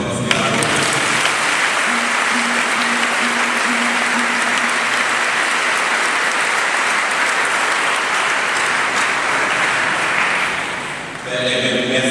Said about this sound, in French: Je vous prie d'applaudir très fort